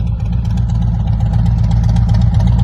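A 2021 Harley-Davidson Road Glide fitted with a Forsch Angry V exhaust idles steadily, a loud, close, low rumbling lope with no talk over it.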